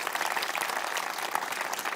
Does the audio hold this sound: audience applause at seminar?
yes